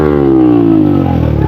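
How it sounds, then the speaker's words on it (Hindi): A motorcycle exhaust revs loud and close in a single sustained burst, its pitch falling steadily as the engine winds down, with no talking. "चलो एग्जॉस्ट सुना दो क्या?"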